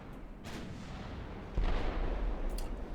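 Battleship gunfire in the naval strategy game Ultimate Admiral Dreadnoughts: a few muffled distant booms over a low rumbling background, with one heavier thud partway through, fairly faint and with no speech.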